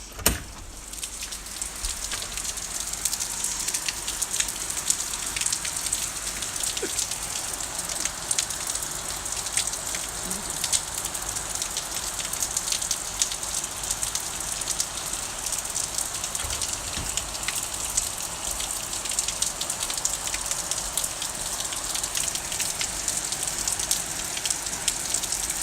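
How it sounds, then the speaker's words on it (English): Heavy rain pours steadily through a rainstorm at night, a dense continuous hiss of drops close by on outdoor surfaces, unbroken and even for the whole stretch with no voices. "I've got to go out the other way to show you the rain because it's coming into the back area"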